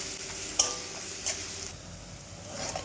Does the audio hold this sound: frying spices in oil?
yes